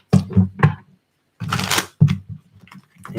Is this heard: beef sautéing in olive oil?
no